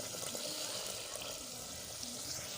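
Water poured into a pan of simmering cashew curry gravy, a steady watery rush and sizzle running close and continuous under faint kitchen background.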